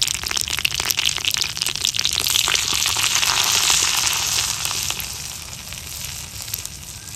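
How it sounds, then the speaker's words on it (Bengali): Asafoetida dropped into hot oil with curry leaves in a pan sizzles loudly and steadily, with a bright, continuous frying hiss and crackles. "এর মধ্যে একটু হিং ফোড়ন দিয়ে দিচ্ছি।"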